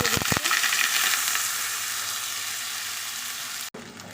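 Rice fries with whole spices in a pan as it is stirred, a close, steady crackling sizzle opening with a few sharp scrapes of the spoon, with a short knock near the end.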